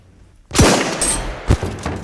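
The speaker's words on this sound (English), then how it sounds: "I killed Link and then I got sniped by the console" Gunfire in an online shooter game near a big central tower, with a burst of shots followed by a second sharp report like a sniper round, loud and close with a noisy tail.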